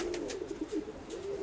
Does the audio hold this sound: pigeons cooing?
yes